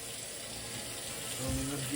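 Tap water runs steadily into a kitchen sink as raw chicken wings are rinsed under hot water, a continuous close splashing hiss that grows slightly louder toward the end.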